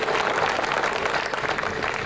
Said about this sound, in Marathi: सगळ्यांनी टाळ्या वाजवून त्यांना शुभेच्छा द्याव्यात